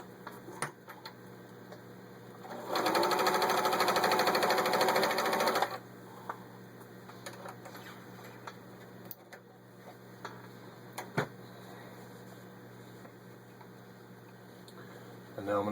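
A vintage Pfaff 297-1 embroidery sewing machine stitches through six layers of thin denim in a steady, loud mechanical run of about three seconds, stopping abruptly; quiet room noise and small clicks surround the burst.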